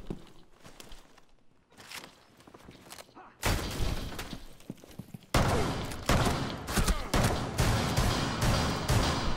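Gunfire in Rainbow Six Siege: rapid bursts of automatic shots, sparse and softer at first, then growing dense and loud in the second half, with sharp repeated cracks and some footsteps mixed in.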